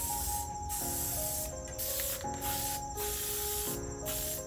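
Bursts of spray paint from a nearly empty can hiss in several short pulses, fairly close, over a steady background of tonal hum.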